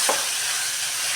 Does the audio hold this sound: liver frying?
yes